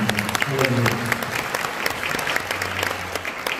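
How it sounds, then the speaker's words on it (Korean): A church conference audience gives dense, steady applause, a close wash of many hands clapping that holds for several seconds. "우리 하나님께 큰 박수를 드리겠습니다."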